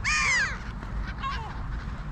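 Two harsh crow caws ring out close by, a loud one followed by a softer reply, over a low background rumble.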